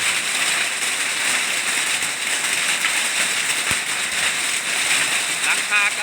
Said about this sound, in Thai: เกิดมาไม่เคยเห็นลูกเห็บใหญ่ขนาดนี้ครับ